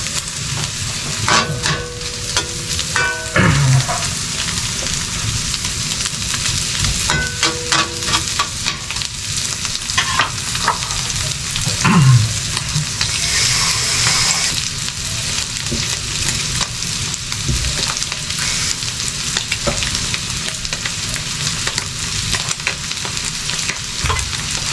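Onion and garlic sauté in a hot pan with a continuous loud sizzle and crackle, while a spatula scrapes and stirs at irregular intervals.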